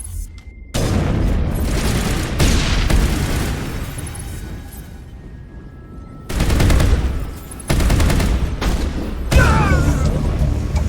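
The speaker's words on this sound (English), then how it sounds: "Open fire! Open fire!" Gunfire and heavy booms erupt in a firefight in the video game Mass Effect, loud repeated bursts and rattling volleys in several waves, with brief lulls between them.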